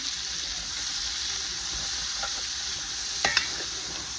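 A steady hiss of cabbage and onions frying in a pan continues throughout, with a couple of soft utensil clicks near the end.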